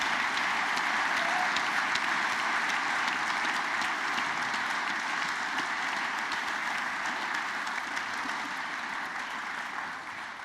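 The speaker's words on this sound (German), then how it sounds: "Ihr dürft nochmal ein letztes Mal einen herzlichen Applaus geben." Warm, dense applause from an audience at the close of an anniversary talk event, steady and sustained, fading slightly toward the end, with no speech on top.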